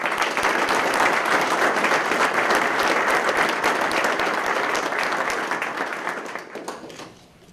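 A large audience applauds loudly and steadily, a dense wash of clapping that holds for several seconds before fading out near the end.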